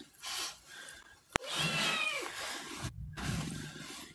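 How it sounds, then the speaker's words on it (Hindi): A cat's growling, yowling calls break out intermittently across several seconds, fairly loud and near, with a sharp click and a brief gap of near silence partway through. "ए बिल्ली जाओ यहाँ से"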